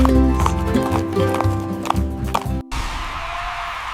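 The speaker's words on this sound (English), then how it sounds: "The donkey trotted down the street with tapping hooves that kept the beat." Donkey hooves trot along a street in a steady clip-clop rhythm over a bouncy music track in a children's song, the hoofbeats crisp and near before a brief cut to hissy quiet.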